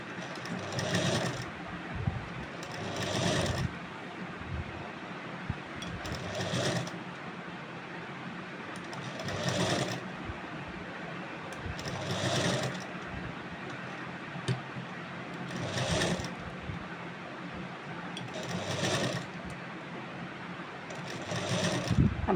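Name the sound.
sewing machine stitching a Rajasthani suit blouse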